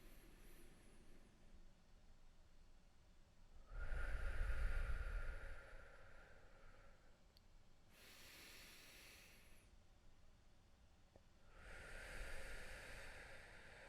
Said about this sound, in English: I'm breathing from my first and second chakras and using my diaphragm when I do this.